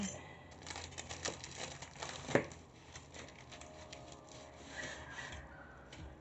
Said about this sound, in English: I have a cleaver to cut this